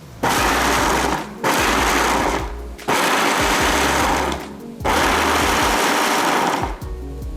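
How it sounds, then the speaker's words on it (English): A blender grinds a vegan meatball mixture into a semi-coarse meal in three loud, close pulses of about two seconds each, with short pauses between them. "So we want to blend this down so that it is a semi-coarse meal"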